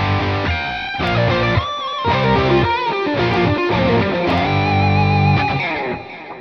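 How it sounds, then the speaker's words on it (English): An electric guitar solo is played back from a recording with heavy delay and reverb, sustained distorted notes ringing into echoing tails over a rhythm track before the sound fades at the end. "This time I'm gonna change my tone for more delay and reverb."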